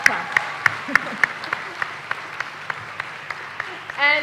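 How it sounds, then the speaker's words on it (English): An audience at the Celebrate Africa Awards 2015 ceremony claps in a steady, evenly spaced rhythm, each sharp clap standing out clearly before a fuller burst of applause swells at the very end. "Can we have one more clap?"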